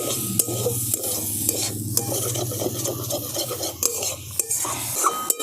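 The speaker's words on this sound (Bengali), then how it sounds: "এরপর আবার একবার সব ভালো করে মিশিয়ে নিচ্ছি" A spoon stirs and scrapes a snack filling around a pan with no oil, repeated close scraping strokes with sharp clinks against the metal over a light sizzle.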